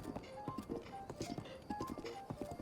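Horse hooves clip-clopping at a walk in Zelda: Breath of the Wild, a steady rhythmic patter of close footfalls with faint game sounds and light tonal chimes underneath.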